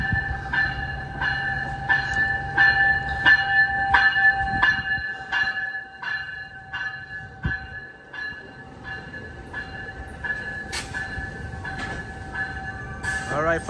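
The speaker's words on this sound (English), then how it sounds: "Amtrak 528 highballing out of here with my stalker 8310" An Amtrak Capital Corridor passenger train departs a station at the Oakland Coliseum, steady rumbling rolling noise under a rhythmic ringing crossing bell, with faint talk in the background.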